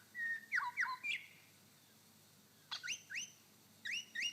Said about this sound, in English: the grey thrush,